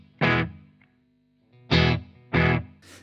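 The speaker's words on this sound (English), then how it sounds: "you've got this edgy distortion to it and it's heavily filtered" Electric guitar run through a budget Cuvave delay pedal with an edgy, heavily filtered distortion: three separate strummed chords, the first ringing out and then two more in quick succession after a pause, each with a faint echo tail.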